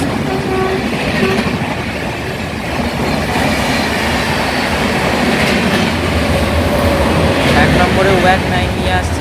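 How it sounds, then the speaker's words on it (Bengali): The Dibrugarh–Kanyakumari Vivek Express rolls through Baruipara station with a loud, steady rumble and rhythmic clatter of wheels on rails, a voice speaking briefly over the noise. "বাইশ হাজার পাঁচশো চার ডিব্রুগড় কন্যাকুমারিকা বিবেক এক্সপ্রেস"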